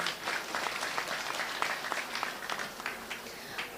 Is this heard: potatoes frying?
no